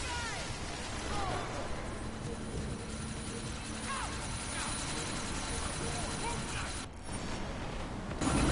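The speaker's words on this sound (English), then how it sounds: "Miller, chopper's been grounded" Helicopter in the video game Deus Ex during a sandstorm, a steady broadband rotor and engine roar running continuously under gusting wind noise with a brief dip near the end.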